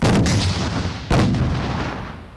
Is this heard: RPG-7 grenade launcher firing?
yes